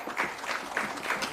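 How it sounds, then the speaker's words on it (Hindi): Audience applause at a theatre festival play, a steady dense patter of many hands clapping at moderate distance, filling the short moment without pause. "ताली बजाते रहें"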